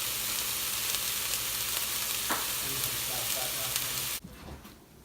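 Food simmers in a pan on the stove, giving a loud, steady, close sizzle and crackle that cuts off abruptly near the end, leaving a quieter room.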